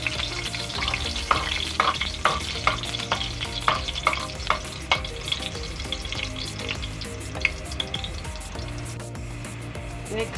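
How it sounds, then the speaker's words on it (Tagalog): Chopped garlic fries in hot oil for a Filipino chicken liver and gizzard adobo, a dense steady sizzle broken by frequent sharp pops and spatters of oil, loud and close, with no talking. "Unahin yung bawang. Tapos naman yung talsik ng mantika."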